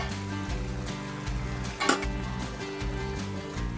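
Potatoes tipped into half-cooked lettuce greens frying in a pan for a curry: a steady sizzle with stirring scrapes and one brief, sharper thud and clatter partway through.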